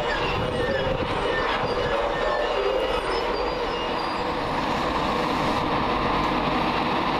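A Class 91 electric locomotive, number 91102 City of York, hauls an East Coast express from London King's Cross to Leeds past a station at Peterborough, producing a loud continuous rolling roar with rail rumble and faint wheel squeal throughout.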